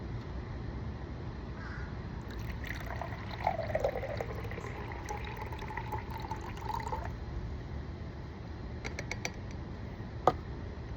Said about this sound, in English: what I'm going to do is I'm going to fill this glass up with some water